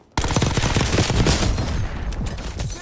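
Dense gunfire from a Call of Duty battle on Rebirth Island, with rapid automatic bursts starting abruptly and rattling on loud and near without a break for the whole stretch, close shots layered over more distant ones.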